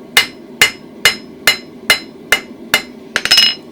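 Hammer blows on hot steel at an anvil while hand forging a toasting fork, eight sharp ringing strikes in a steady rhythm, close and loud, ending in a quick flurry of lighter taps.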